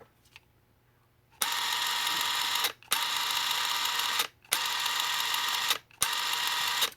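DeWalt 20V Max XR half-inch mid-range cordless impact wrench running in four bursts of steady, loud hissing whir, each lasting over a second with short pauses between, heard up close with no talk.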